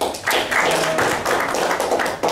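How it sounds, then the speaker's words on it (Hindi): An audience at a business networking meeting breaks into dense, steady clapping that carries loudly for a couple of seconds, with a brief dip near the end. "मुकेश भाई के लिए जोरदार तालियां हो जाए"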